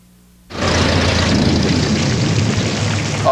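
A propeller airplane engine roars in abruptly after a quiet moment and holds a loud, steady drone, heard in an Anco wiper blades commercial set in terrible rain.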